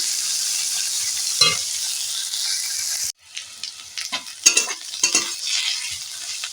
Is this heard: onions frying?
yes